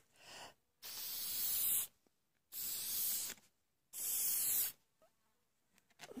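Spray varnish hisses from an aerosol can onto a painting in three separate bursts of about a second each, separated by short quiet pauses, close and clear with no talking.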